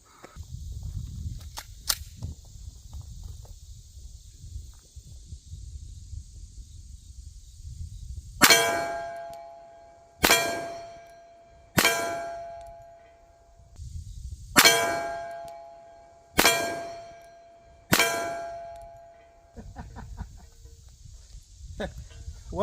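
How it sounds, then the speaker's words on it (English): A steel gong rings out as it is struck by .45 ACP rounds from a Glock 21 pistol: six sharp metallic clangs at a slow, even pace, each ringing on and decaying before the next. "I got my gong there in the middle, so I'll just take some center shots here for the first shots to see where we impact"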